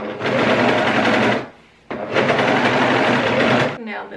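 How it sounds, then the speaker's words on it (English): An overlocker serges along a frayed linen edge in two loud, steady bursts of rapid stitching, close by, with a brief pause between them. "My first step is going to be overlocking this edge because it's very frayed at the moment"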